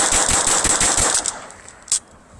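A semi-automatic pistol fires a magazine of Mini-Mag ammunition, a loud close run of rapid evenly spaced shots lasting over a second, then one last isolated shot.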